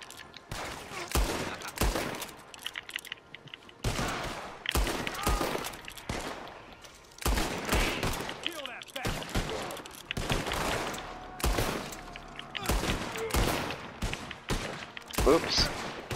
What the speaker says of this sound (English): I'm shooting the shit out of all these guys